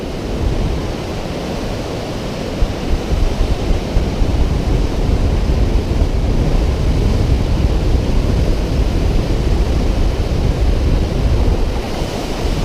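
The Urubamba River rushes with glacial meltwater, a loud, continuous broadband roar of turbulent water close by, steady throughout with some wind buffeting the microphone.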